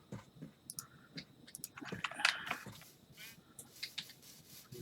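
Sheep bleating in a video game, a few short, quiet bleats mixed with soft clicking sounds, with no talking.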